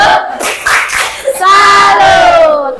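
A classroom of children chants the rhythmic 'tepuk salut' clap routine in unison, with loud shouted voices and claps blending into a sustained group cry.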